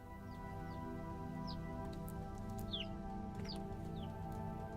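Hens clucking in Vintage Story, several short soft clucks scattered across a few seconds over a steady low ambient hum, fairly quiet and close.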